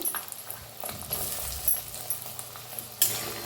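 Mixed vegetables with masala, onion and tomato roasting in a pan, giving a soft continuous sizzle under intermittent spoon stirring, light scrapes and a sharp clink near the end.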